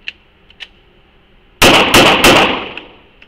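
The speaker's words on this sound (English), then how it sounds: "I'm gonna have you shoot this 2 rounds, 3 rounds." Three loud gunshots fired in quick succession at an indoor shooting range, each a sharp blast with a ringing tail that fades over about a second, after a quiet stretch with a few faint clicks.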